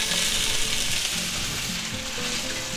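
Peppers and onions hit a hot stir-fry pan for spicy beef and broccoli, giving a steady, close sizzle with a bright hiss and faint low clatter, no voices.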